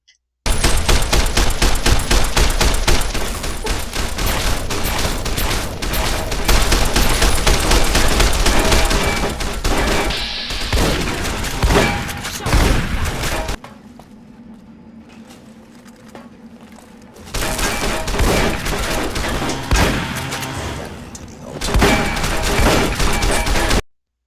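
Sustained heavy gunfire in Fallout: New California combat against robots and ghouls in a pre-war fort tunnel, dense rapid bursts nearly continuous and loud, a short quieter lull midway, then the shooting resumes.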